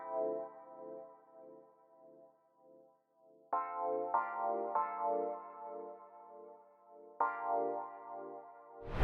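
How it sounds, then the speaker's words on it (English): Soft Rhodes electric piano chords wash out through a light vintage-style reverb, sustained tones swelling and lingering, quiet and mellow in a G-funk style beat context. "So for the effects, all I did was just put on Valhalla Vintage Verb"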